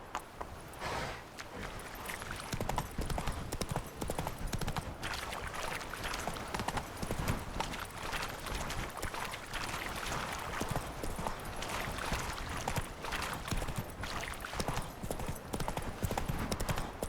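Hooves of the horse Roach clip-clopping steadily in a galloping rhythm through the Witcher 3 game world, a continuous busy run of beats over rushing, noisy ambience.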